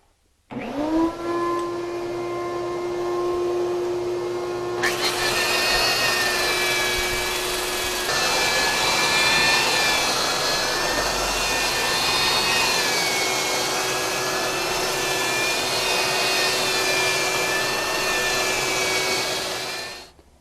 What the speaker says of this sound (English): Finish sanding this wall really quick.